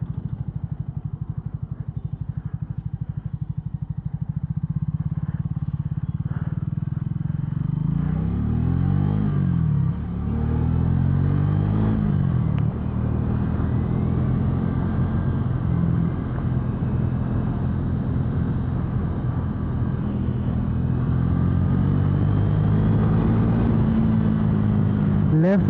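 A Triumph Speed T4 motorcycle on a test ride, its engine rumbling steadily with rising and falling revs as it accelerates and shifts, close and loud throughout with a voice briefly audible.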